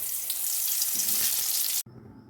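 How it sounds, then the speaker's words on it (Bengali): Pointed gourds (potol) fry in hot oil with a loud, dense, hissing sizzle that continues, then cuts off abruptly near the end and leaves a softer low sputter. "আর এখানে তেল গরম হয়ে এলে একে একে পটলগুলোকে ভেজে নেব।"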